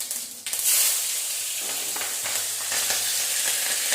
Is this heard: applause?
no